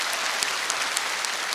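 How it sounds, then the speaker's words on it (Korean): Applause from a televised singing-contest audience greeting a composer in a Seoul concert hall, a dense even wash of many hands clapping at moderate level. "박수를 받으시기 바랍니다."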